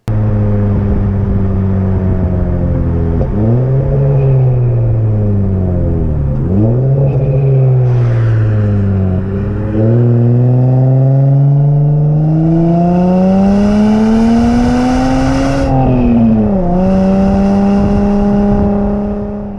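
A car's aftermarket exhaust revs loudly and close, rising and falling through several throttle blips with a deep droning tone and rasp between pulls.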